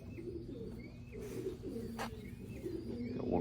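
A racing pigeon coos softly in a loft, low repeated throaty calls with faint chirps from other birds in the background.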